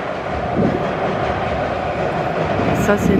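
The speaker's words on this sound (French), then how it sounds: "C'est la ligne de métro, la ligne 6." A Paris Métro line 6 train rolls past near the Austerlitz bridge, a loud, close, steady rumble of wheels and cars throughout.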